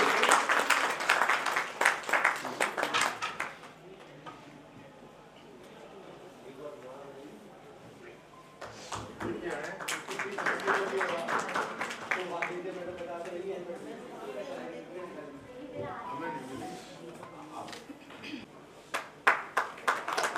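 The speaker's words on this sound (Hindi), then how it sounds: "भाई ताली बजनी चाहिए।" Audience clapping at a poetry gathering's annual celebration, loud bursts at the start and again mid-way, dipping to quieter scattered claps between, with chatter and voices mixed in.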